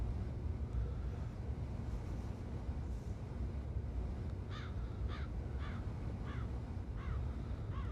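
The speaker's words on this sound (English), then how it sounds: "I can hear birds chirping in the headphones" Birds call in Train Simulator Classic while riding in a Shinkansen cab: about six evenly spaced chirps sound in the second half, moderately clear above a steady low rumble of train and wind noise.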